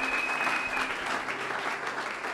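A church congregation applauds during a Sunday worship service, a brief, steady burst of clapping heard from within the crowd at moderate volume.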